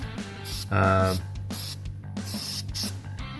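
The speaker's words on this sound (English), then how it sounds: "This is what I spray up in along the box sides." Rust Check Coat and Protect rust coating sprayed from a can onto the box sides of a 2011 Chevy Colorado, several short hissing bursts in a rhythmic series, close and fairly loud.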